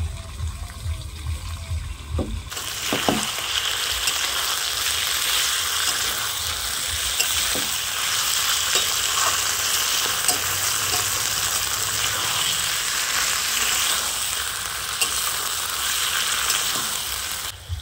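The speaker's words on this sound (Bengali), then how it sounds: "এইভাবে 6-7 মিনিট কষিয়ে নেব মাংসটা" Mutton kosha with chopped tomato stir-frying in a pan, a loud, steady sizzle that swells abruptly after a few seconds, with scattered spatula scrapes and knocks running throughout, close up and without talk.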